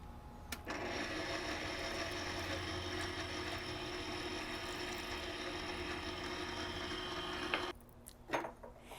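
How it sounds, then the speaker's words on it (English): A stand mixer kneads pizza dough for a grilled garlic butter crust, giving a steady loud mechanical whir and rattle that runs unbroken for several seconds before stopping abruptly, followed by a few faint clicks. "We're going to let it knead right here in this mixer for 4 to 5 minutes."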